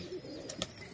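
A green tumbler pigeon gives a soft, faint coo amid quiet surroundings, a short low murmur with a few light bursts of movement around it.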